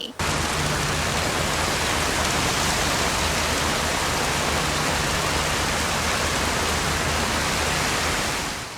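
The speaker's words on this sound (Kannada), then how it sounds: "ಮೂರ್ನಾಲ್ಕು ದಿನದಿಂದ ನಗರದಲ್ಲಿ ಮಳೆ ಸುರಿಯುತ್ತಲೇ ಇದೆ" Heavy rain from Cyclone Fengal pouring down without pause in Bengaluru, a loud dense roar of water that fills the whole stretch, no speech.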